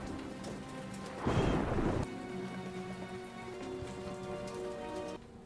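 A storm pours steady rain onto surfaces while a burst of thunder rumbles through partway, the downpour continuing as a constant hiss before cutting down near the end.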